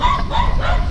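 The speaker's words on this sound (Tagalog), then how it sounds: "Ingay lang ng mga aso." Dogs bark and yip in quick bursts, fairly close, over a steady noisy background.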